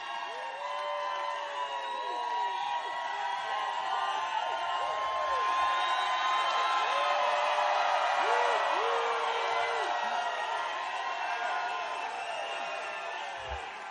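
A large crowd at a JD Vance campaign rally in Newton, Pennsylvania cheers, whoops and claps steadily throughout, a dense roar of many voices that swells slightly in the middle and fades near the end.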